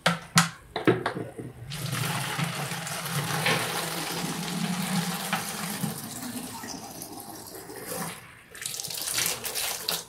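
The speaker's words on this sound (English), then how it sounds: "And then I'm going to put water." Water pours steadily into a homemade liquid soap mixture, a continuous close splashing fill after a few brief knocks, then fading briefly near the end before resuming.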